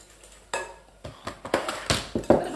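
Custard mix with erythritol is whisked in a bowl, a series of quick, close clinks and scrapes of utensil against the bowl in an uneven rhythm.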